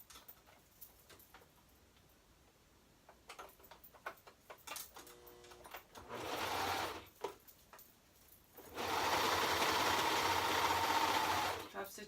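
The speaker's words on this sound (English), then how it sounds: "Top stitching it all the way around." Sewing machine top stitching fabric around a hat, two bursts of steady whirring stitching, a short one then a longer one, after quiet ticking and handling noises with some talk.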